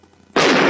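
A small cartoon bomb goes off in a single sudden, loud burst after a quiet moment, its blast sustaining briefly at full strength.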